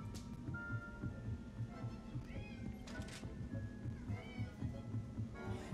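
A cat meows repeatedly in short rising cries, fairly close and distinct, over a low rhythmic pulsing background.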